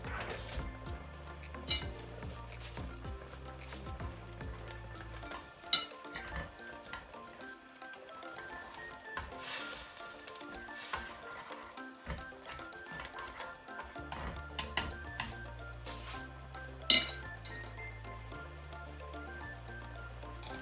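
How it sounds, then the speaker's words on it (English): Tiger prawns cooking with curry powder in a pan over medium heat, a soft sizzle punctuated by utensil clinks and scrapes against the pan, heard under steady background music with no talking. "We are going to cook the prawn for 2 minutes under the medium heat."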